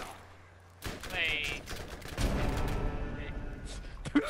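Gunfire in the video game Borderlands during co-op play, bursts of shots mixed with game effects and music, loud and busy, with voices talking over it.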